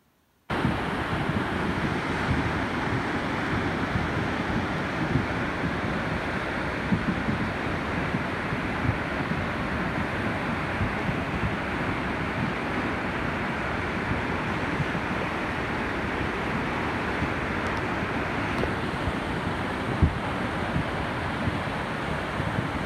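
The swollen Kali river in flood roars steadily, a dense, continuous rushing and churning of water heard close and loud throughout, with no speech.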